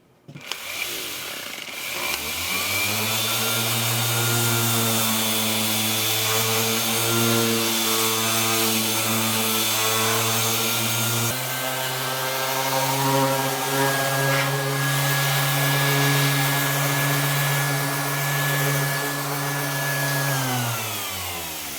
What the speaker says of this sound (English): we're going to sand a little bit